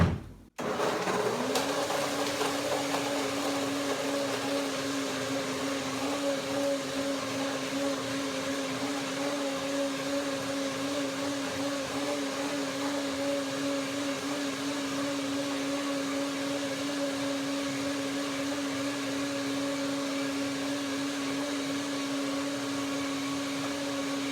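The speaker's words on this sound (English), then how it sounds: "after the first blending, it will sit for a while, and I make a second blending" A blender making macadamia cream whirs up to speed and runs steadily with a loud, constant motor hum and whine that continues without pause throughout.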